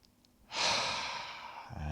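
A slow, steady breath during a lying-down core and back relaxation exercise, a soft airy rush swelling in after a quiet start, holding level, then easing as a low voice begins at the end.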